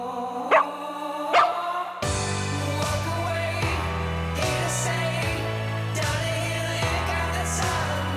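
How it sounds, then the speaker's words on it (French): A dog barks twice in quick, sharp bursts near the start, then falls silent as music begins and plays on steadily underneath. "Et il va rester combien de temps avec nous, là, Max le chien?"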